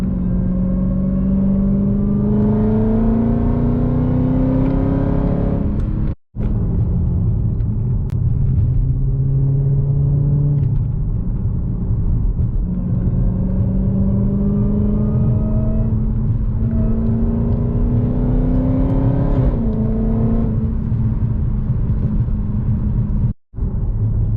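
Car exhaust, heard from inside a BMW G80, rumbling deeply as the engine pulls through long rising accelerations with gear changes between them, loud and continuous with no talking.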